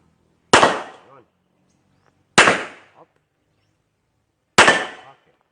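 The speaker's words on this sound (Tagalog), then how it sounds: "unang putok pala natin yun" Gunshots at a shooting practice range, three sharp loud reports spaced about two seconds apart, each with a brief decaying echo and near silence between.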